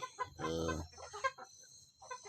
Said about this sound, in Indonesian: saya memberi pakan ayam kampung saya ini teman-teman